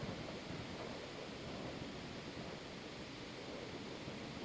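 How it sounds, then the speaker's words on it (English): Steady rain in the Minecraft Indev game, a continuous even hiss with no breaks, fairly faint and unchanging throughout. "It's still raining."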